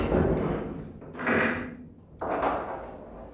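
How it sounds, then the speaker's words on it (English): A lock and opening mechanism on a homebuilt hatch, worked open and then shut. Two distinct clunking, sliding actions sound close by, with short scraping bursts and no voices. "I have a lock, an opening mechanism for the hatch."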